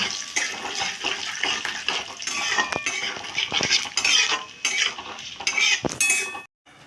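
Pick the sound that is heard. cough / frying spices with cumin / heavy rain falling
frying spices with cumin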